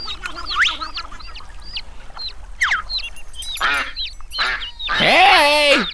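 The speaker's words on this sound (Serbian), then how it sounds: "Majke patke su izuzetno zaštitnički raspoložene." A mother duck quacks, beginning with scattered sharp calls and building to a loud harsh burst of quacks near the end.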